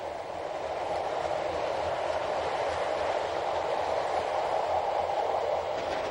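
Glacier Express train hauled by a locomotive up a narrow line after Filisur, a steady broad rumble and rolling noise of the carriages throughout, with no pauses.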